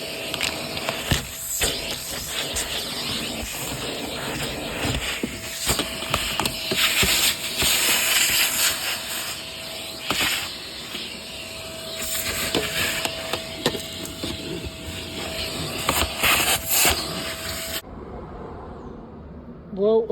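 A vacuum cleaner works over the interior of a Honda Civic EK3, a steady motor whine with hissing suction and bumps and clatters as the nozzle moves, then cuts off abruptly near the end.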